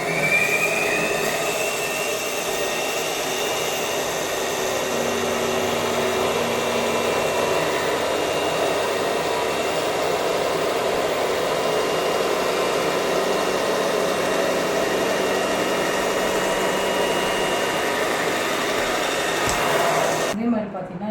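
Blouse fabric is cut along marked lines, with a steady, loud motor-like whir that runs unbroken for about twenty seconds before stopping abruptly.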